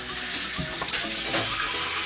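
Water runs steadily into a hookah base, a continuous close hiss and splash of filling with no speech.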